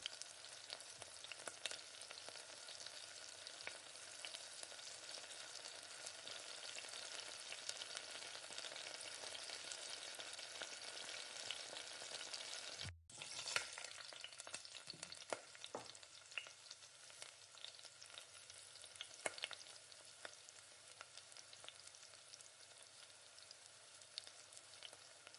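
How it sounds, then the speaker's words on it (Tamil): Ridge gourd and egg stir-fried in a pan, sizzling steadily and loudly with scraping stirs throughout, a brief break in the middle before the frying resumes, no talk. "நல்லா இந்த மாதிரி கைவிடாமல் கிளறி கொடுங்க"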